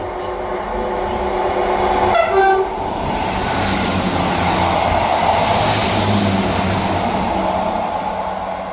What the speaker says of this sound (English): Passing through now is the 1726 ScotRail service from Perth to Edinburgh Waverley